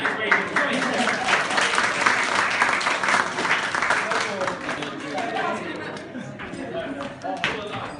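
Wedding guests applauding during a best man speech, dense clapping mixed with chatter and laughter that stays loud for several seconds, then thins as voices carry on over scattered claps.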